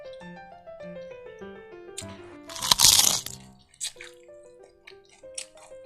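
Loud, crisp crunching of fresh shredded vegetables being chewed with a bowl of Thai rice noodles (khanom chin), a dense burst in the middle with smaller bites after, over a background of soft melodic music.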